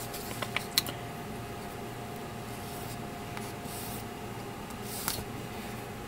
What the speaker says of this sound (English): these 5 parts, including the V-fin itself, which I'm going to sand these two edges off